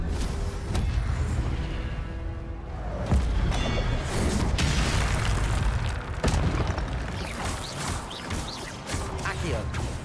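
An Incendio fire spell is cast in the video game Hogwarts Legacy. Booming, crackling fiery blasts and crashes come in repeated bursts over a busy, continuous combat din, with a voice talking through parts of it.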